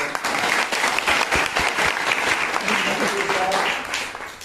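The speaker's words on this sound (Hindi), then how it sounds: "तालियां बजा के" A crowd claps steadily throughout at an Independence Day flag hoisting in a village, with a voice talking over the dense applause.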